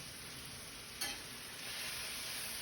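Vegetables and bacon sizzle softly in a pan, a steady faint hiss with one brief scrape of a stir near the start; quiet and without talk.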